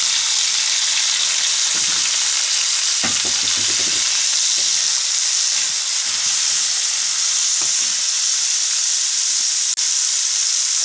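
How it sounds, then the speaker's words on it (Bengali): Chopped onion and green chilli hit hot oil and fry with a loud, steady sizzle and hiss, broken by a few soft stirring scrapes in the pan. "তেলটা তেতে গিয়েছে। আমি এবারে পেঁয়াজ কুচি আর কাঁচা ঝাল কুচি দিয়ে দেব।"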